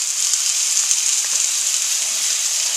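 Pork chops for smothered pork chops brown in a pan, giving off a loud, steady, bright sizzle with no break and no talk.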